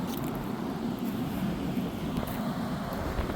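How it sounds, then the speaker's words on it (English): Rooftop HVAC condenser units running on a spray-foam and gravel roof, a steady, loud low droning hum with constant airy noise, unbroken throughout. "So those are condenser units."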